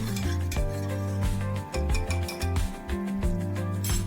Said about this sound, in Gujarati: હવે સરસ રીતે હું હલાવી દઈશ, લસણ જ્યાં સુધી શેકાઈ જાય ત્યાં સુધી